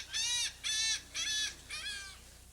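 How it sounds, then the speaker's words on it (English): Birds at a pelican rescue sanctuary give four harsh, crow-like caws in an even rhythm, loud and close, with no talk over them. "the greatest source of noise inside the sanctuary isn't cars or waves, but birds"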